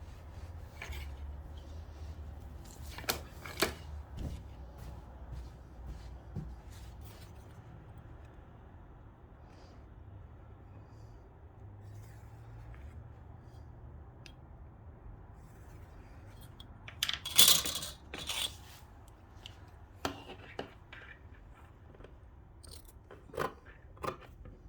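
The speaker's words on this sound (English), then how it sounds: "so now I can cut this." Scissors snip through tulle fabric of a formal bridesmaid evening dress at the unpicked waistline, a few crisp cuts and rustles close by in a quiet room, with a denser burst of snipping partway through.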